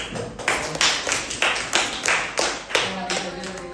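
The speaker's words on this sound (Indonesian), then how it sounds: "Ya, tepuk tangan dulu." Hands clapping in a classroom after a student presentation, with about eight distinct, fairly slow and evenly spaced claps ringing out close by, almost like a small group clapping in unison.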